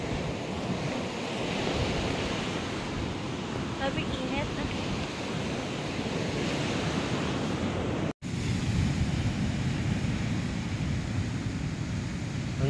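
Sea surf at a beach in Baler, Aurora, rolls in as a steady, loud wash of breaking waves with wind buffeting the microphone throughout, a brief voice heard faintly over the roar.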